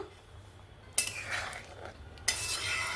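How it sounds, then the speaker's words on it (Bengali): Coconut milk being stirred into a prawn curry with ash gourd, a spoon scraping and clinking against the pot in two bursts over a low background hum, fairly quiet and with no talking. "নারকেলের দুধটা দিয়ে ভালো করে মিক্স করে নিলাম"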